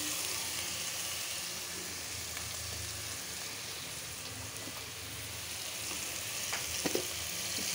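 Pumpkin curry fries in a pan with a continuous soft sizzle and a few faint scrapes and clinks near the end, all fairly quiet with no talk.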